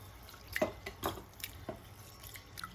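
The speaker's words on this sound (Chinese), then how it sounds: "加入适量的长江水，给它淘洗一下，洗去大米表面的灰尘和杂质" A bowl of rice is washed by hand in water, giving soft, close watery sloshes and drips at irregular intervals, faint and with no talking.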